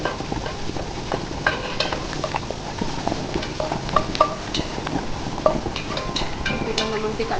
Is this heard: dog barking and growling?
no